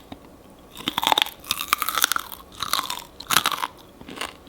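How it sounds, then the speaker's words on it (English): Several crisp, close crunches of baked pasta chips being chewed, arriving in quick irregular bursts with brief pauses between bites, no talking. "You hear how crunchy they are?"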